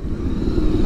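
A Honda XRE 300 motorcycle running without its air filter idles and rumbles steadily up close, a loud continuous engine drone with no talk.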